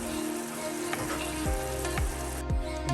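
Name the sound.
spices frying in a pan for catfish head soup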